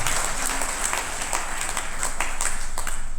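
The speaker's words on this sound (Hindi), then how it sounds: "मैं चाहूंगा जोरदार तालियां इस रैंक के" An audience at a business plan presentation and training event breaks into sustained applause, many hands clapping densely and evenly throughout, with a voice faintly audible in the background.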